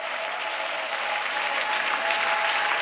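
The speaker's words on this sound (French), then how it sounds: "Clap for Jesus Christ" A church congregation claps for Jesus Christ, a steady, fairly loud wash of many hands clapping together that holds evenly for a few seconds.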